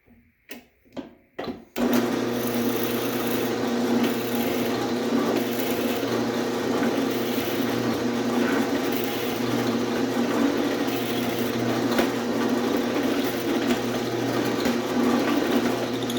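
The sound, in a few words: drilling a wooden pen blank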